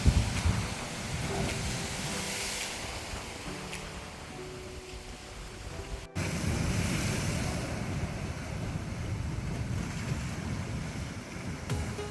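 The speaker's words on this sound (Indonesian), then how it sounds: "suara ombak yang terus menghantam bibir pantai membuat suasananya terasa berbeda" Ocean waves roll continuously onto the beach at a coastal spot in East Nusa Tenggara, Indonesia, under strong gusting wind that buffets the microphone, a loud, steady roar with no talking.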